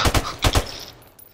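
Gunfire in a first-person shooter video game: two quick pairs of sharp, loud shots, close together, followed by a fading tail.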